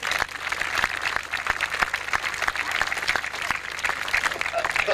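Audience applause at a community event in Starbeck: dense, steady clapping from a sizeable crowd, close and sustained for the full five seconds without a break.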